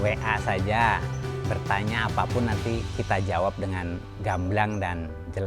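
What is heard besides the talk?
None of the usual background noises is heard.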